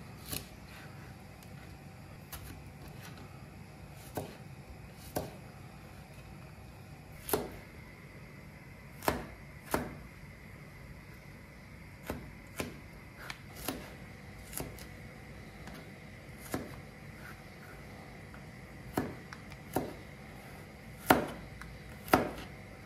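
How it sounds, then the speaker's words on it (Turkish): A knife chops six garlic cloves on a board for pickles, with sharp isolated taps spaced irregularly and growing a little denser toward the end, close and fairly quiet against a faint steady hum. "Burada 6 diş sarımsağım var. Bir başa yakın. Bunları da doğrayacağım."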